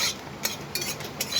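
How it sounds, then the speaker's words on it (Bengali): A bay leaf and broken dried red chili toast in a dry pan, with quick, rhythmic stirring scrapes over a faint crackle. "আমি আগে তেজপাতা শুকনো লঙ্কাকে আগে ভালো করে ভেজে নেব"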